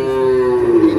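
Buffalo at a livestock market in Jagraon lowing in one long, loud, steady moo that fills the whole moment, with no talk over it.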